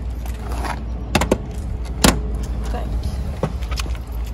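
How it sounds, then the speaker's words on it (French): Exterior toilet cassette hatch on a Challenger V114 camper van being unlatched and opened, with sharp plastic clicks and clunks in a few quick bursts over low background rumble, a person speaking nearby. "Donc la première trappe, c'est la cassette des toilettes. Donc on l'ouvre."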